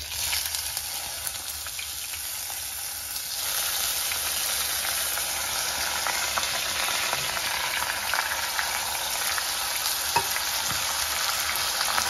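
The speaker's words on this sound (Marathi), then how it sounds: "थोडंसं हलकं हाताने हे परतून घ्यायचं।" Washed, unsoaked rice is sautéed with spices in a pan for a coconut sweet-rice dish, giving a steady close sizzle with light scraping stirs that grows slightly louder partway through, without speech.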